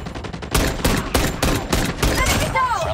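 Rapid, loud blasts from an HS2126 burst-fire shotgun in a video game come in a quick irregular string of about seven shots, close up, ending with a whirring electronic tone.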